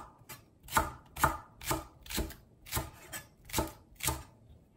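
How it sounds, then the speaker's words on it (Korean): A knife slices Korean green onion (daepa) on a cutting board in about nine crisp, evenly spaced chops, close and quiet, with no talking. "대파는 살짝 버섯 썰기로 썰어주세요"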